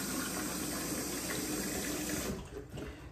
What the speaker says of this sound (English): people who know what they're doing say, rinse it out, so I'm rinsing it out